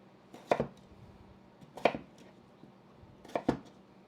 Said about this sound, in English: I am going to cut up the potatoes and add them to the pan right now